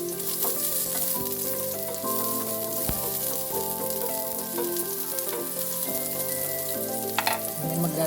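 Onions sizzle steadily as they fry in a pan for a spicy tilapia sisig, a constant close hiss throughout with no talking.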